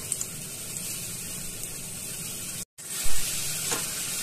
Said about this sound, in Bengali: দেখুন এইভাবে চারদিকটা ঘুরিয়ে ঘুরিয়ে লাল করে ভেজে নিয়েছি।